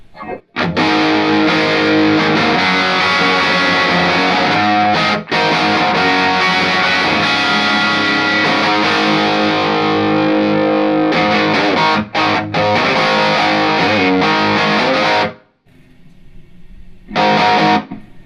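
Heavily distorted electric guitar plays loud sustained chords through a Jet City Pico Valve amp with KT77 power tubes, with a couple of brief breaks and a final short strum after a pause.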